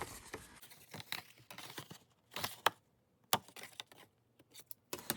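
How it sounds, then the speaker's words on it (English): Scissors snip through paper while a book box is being made, a series of short, close, crisp cuts and rustles with quiet gaps between them. "I'm just gonna use my scissors to make this disconnect."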